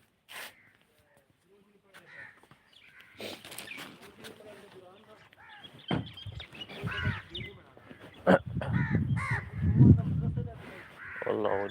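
Crows caw repeatedly outside in a village on a foggy morning as grain is scattered for them, their calls mixing with other birds and nearby human voices talking.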